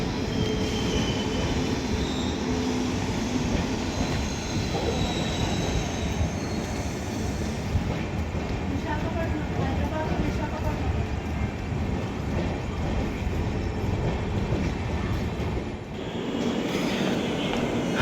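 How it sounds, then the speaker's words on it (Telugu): A train running along the middle track outside Charlapalli railway station, a long steady rumble of rolling wagons with faint wheel squeal and clatter, heard from the platform. Faint voices can be heard in the background. "మరొక ట్రైను ఇక్కడ నుంచి వెళ్తుందన్నమాట."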